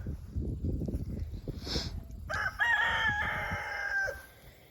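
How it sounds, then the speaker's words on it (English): A rooster crows once, a drawn-out call rising then falling, fairly close, with soft clucking and rustling from chickens before it. "Hi, chickens."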